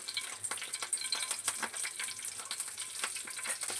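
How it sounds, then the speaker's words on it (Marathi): Curry leaves and cumin seeds crackle and sizzle steadily in hot oil in a pan, a dense, even frying hiss with small pops throughout, fairly close and on its own. "कढीपत्ता जिरं छान भाजला आहे तेलात"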